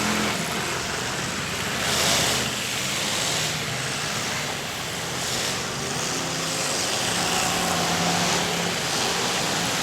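Demolition derby at a county fair: cars pounding into one another under a continuous roar of engines and crowd noise, with duller surges of impact and revving spread across the arena rather than any single sharp crash.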